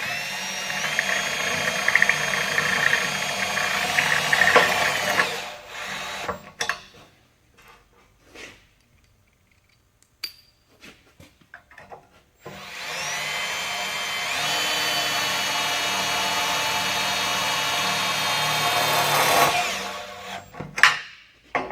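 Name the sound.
drill driving Tek screw into tube joint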